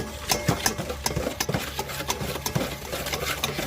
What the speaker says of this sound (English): Now I'm going to stir this up again.